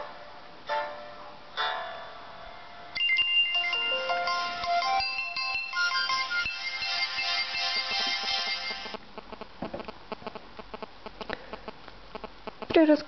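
A Sci Phone I9+++ replica handset powers on and plays its startup ringtone, a bright electronic melody of several seconds with busy tones, followed by lighter clicking and tapping sounds.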